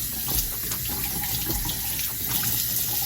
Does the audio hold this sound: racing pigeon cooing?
no